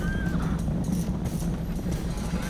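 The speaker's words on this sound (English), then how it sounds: "Shak at some point decided to use these horse archers to assail us" Hoofbeats of horse archers galloping in a historical strategy game battle, a continuous dense rumble of many hooves with brief whinnies, steady and fairly loud with no talk.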